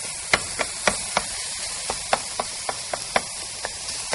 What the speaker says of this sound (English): I just want to get back to my ground beef here. Using my good old chop and stir.